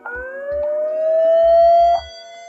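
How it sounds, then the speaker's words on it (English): A security camera's loud electronic alarm siren wails with a rising pitch for about two seconds, accompanied by a few low thumps, then cuts off abruptly. "you can also trigger an alarm, which I'll show you what that sounds like by pressing it"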